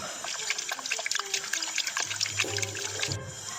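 Water poured into a pot of cooking potatoes with local herbs, a steady trickling and splashing close by, with a short lower gush near the end.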